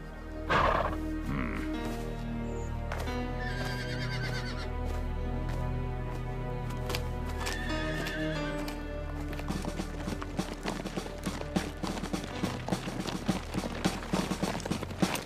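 Horses whinny loudly near the start, then hooves clop and shuffle in an uneven rhythm for the rest, with faint clatter and movement around them.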